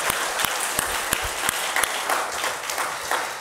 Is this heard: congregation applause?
yes